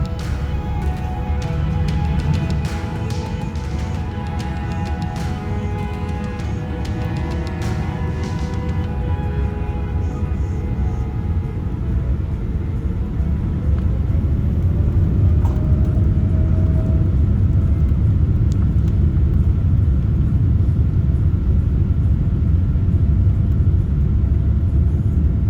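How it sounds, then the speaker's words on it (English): An airliner takes off from a Stockholm runway bound for Oslo, heard from inside the cabin as a loud, steady low rumble of engines that builds and grows smoother as the aircraft climbs. "Taking off out of Stockholm, our flight over to Oslo should take around 1 hour 10 minutes."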